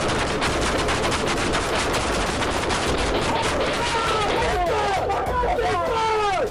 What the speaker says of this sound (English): Suddenly, a gunshot rang out.